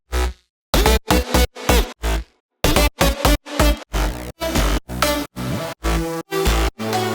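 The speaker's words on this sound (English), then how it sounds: "So the synths sound like this." Bass house synths in FL Studio, with leads and a Reese-style bass: a loud, punchy run of chopped stabs and bass hits in a syncopated pattern after a brief gap, with dense full-range tones and no voices.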